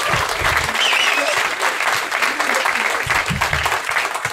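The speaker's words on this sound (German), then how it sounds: "Nochmal Applaus" An audience at a live stand-up comedy show applauds with loud, continuous crowd clapping, while voices and chatter mix in underneath throughout.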